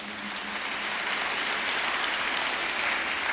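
A church congregation applauds during a sermon, producing a dense, even wash of many hands clapping together that holds steady throughout with no voices.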